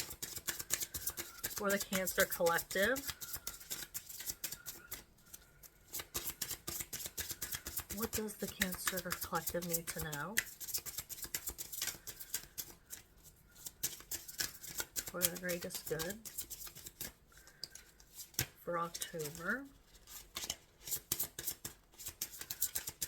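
Tarot cards are shuffled in repeated dense riffling bursts during a reading, crisp and close, broken by pauses while someone speaks over them.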